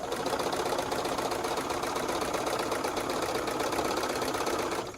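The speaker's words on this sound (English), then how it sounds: "I'm going to go ahead and sew to the notch." A sewing machine stitches quilt pieces in a steady, fast, even whir that runs unbroken for several seconds and stops abruptly, close and alone with no talk.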